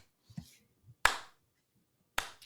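Three sharp, isolated claps spaced about a second apart in a slow, deliberate rhythm, close and dry, with faint murmuring between them.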